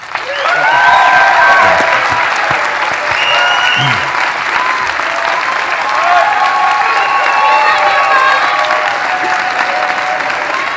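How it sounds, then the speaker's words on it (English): A large audience at a high school graduation ceremony gives sustained, loud applause, dense clapping rolling on for about ten seconds with scattered voices and a few cheers within it. "I want to give another big, warm round of applause for Mike Roberts"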